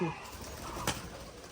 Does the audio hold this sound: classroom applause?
no